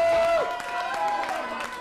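Crowd applause at a live band gig, dense clapping and cheering under steady sustained music tones, loud and continuous with some voices mixed in.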